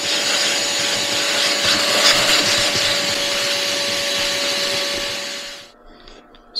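Vacuum cleaner running on a helmet during cleanup, a loud steady whooshing whine held for about five seconds before cutting off abruptly into quiet.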